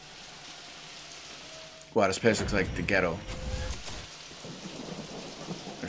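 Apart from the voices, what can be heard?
rain effect in New Donk City, Super Mario Odyssey video game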